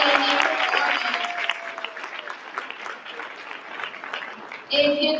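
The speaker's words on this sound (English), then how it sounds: "Let's give her another round of applause for her outstanding performance." Applause from a school assembly audience starts strong and gradually thins out, then a voice begins speaking over the last scattered claps.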